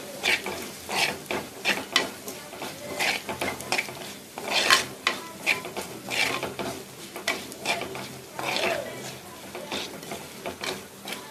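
Spices, fenugreek and asafoetida powder, are stirred in a pan for mango pickle, giving repeated scraping clinks of a spoon against the metal pan at a steady, busy rhythm with no voice.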